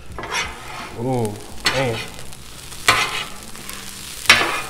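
Shrimp fried rice with egg is tossed and mixed on a Blackstone griddle, a close sizzle under repeated spatula scrapes and taps, while a man briefly exclaims.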